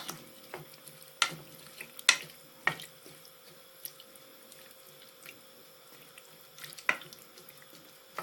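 Water goes into a cooking pot for sweet and sour pork with splashing and sharp clinks and knocks against the pot, quiet and close with no talk.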